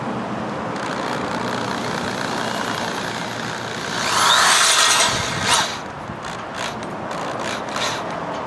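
A self-tapping screw is driven into a metal fence panel mount with a power drill, a louder whirring burst rising above steady outdoor background noise for a couple of seconds, followed by a few short clicks.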